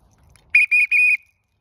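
A dog-training whistle sounds for recall: three loud, piercing blasts in quick succession, a short first one followed by two longer ones, close and alone against quiet background.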